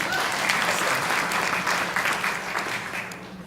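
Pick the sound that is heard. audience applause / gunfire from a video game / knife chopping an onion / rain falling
audience applause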